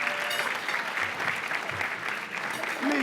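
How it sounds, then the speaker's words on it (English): Audience applause for Monique Parker, Commissioner of Human Relations, at a student awards ceremony: steady, dense clapping from a full room that holds an even level for the whole stretch. "could you please get a nice round of applause for Monique Parker, who is the Commissioner of Human Relations."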